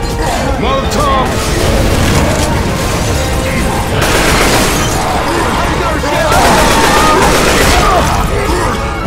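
A Molotov cocktail bursts amid a chaotic Left 4 Dead 2 firefight, with a dense, loud wash of booming blasts and clatter continuing throughout and voices mixed into the din.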